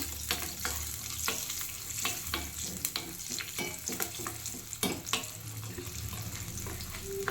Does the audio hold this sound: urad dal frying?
yes